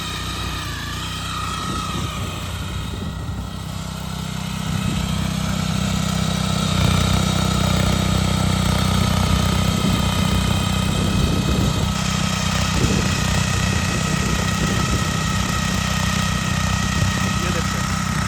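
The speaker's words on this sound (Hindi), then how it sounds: "इंजन से आवाज भी ऐसे आती है जैसे भाई टर्बो है इसमें।" Engine running steadily with a turbo-like whine, a continuous droning hum that grows louder partway through and holds steady, while someone talks over it.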